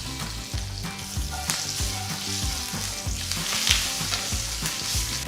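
Curry leaves, mustard seeds and lentils fry in hot oil with a busy, crackling sizzle, punctuated by repeated scraping stirs close up, with no talking.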